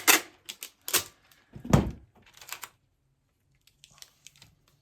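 Packing tape ripped and peeled off dried paint on a gelli plate, several sharp crackling tearing bursts close up, then quieter small taps.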